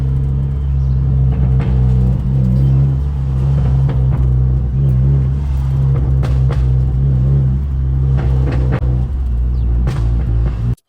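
Honda Accord running on stock 2.25-inch piping with the muffler and resonator cut out, a loud, deep, steady exhaust rumble with a few brief rev swells, close by, cutting off abruptly at the end.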